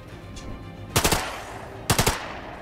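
Bursts of gunfire from The Lamplighters League video game, two rapid clusters of three or four loud shots each, separated by a quieter stretch of low background game ambience.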